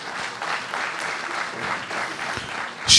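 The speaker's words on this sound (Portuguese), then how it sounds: "palmas para vocês" A comedy show crowd, including people seated up in the balcony, claps in a steady, fairly loud wash of applause that runs the whole time and swells briefly at the very end.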